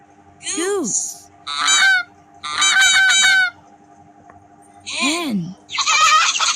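A goose honks repeatedly in loud, close bursts, five separate rounds of harsh nasal calls with short gaps between them over a faint steady hum.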